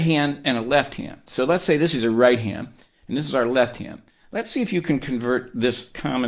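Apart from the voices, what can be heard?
No everyday noise stands out behind the speech.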